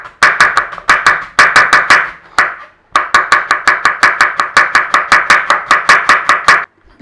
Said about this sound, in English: So we want about a cup of red cabbage, thereabouts. Again, thin slice.